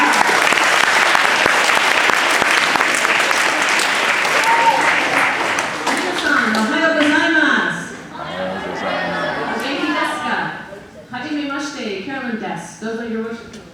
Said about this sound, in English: A big round of applause for Miss Chevelle